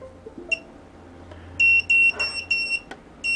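An Omnibus F4 drone flight controller beeper sounds shrill electronic beeps in a series of short, loud pulses, starting with a single chirp and then repeating rapidly nearby.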